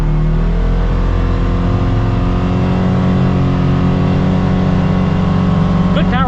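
Engine of a new Polaris Xpedition side-by-side accelerating off-road, a loud continuous droning growl that holds steady and rises slightly, close-up throughout.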